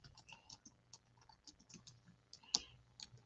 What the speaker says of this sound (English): I'm typing because she can't see me.